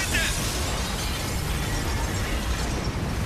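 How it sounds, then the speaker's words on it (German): Dense, continuous explosions and crackling debris from the war shooter Spec Ops: The Line, a steady loud barrage of blasts and rattling mechanical clatter with no pauses. "Ach so, die explodieren die Dinger."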